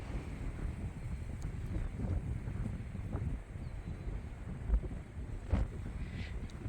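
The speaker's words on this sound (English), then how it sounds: "The wind's blowing so heavily." Strong, gusty wind on a sheep farm in early spring buffets the microphone with a constant low rumble, with a few sharper bumps and gusts standing out and no speech.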